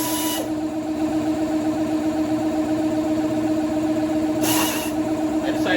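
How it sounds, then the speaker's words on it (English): An air compressor runs steadily during repair work on a deer-damaged Ford F150, giving a constant droning hum with tonal whine. Two short, harsh bursts from an air ratchet on a 1/4 inch drive adapter break through, one at the start and one near the end. "I got the air compressor going"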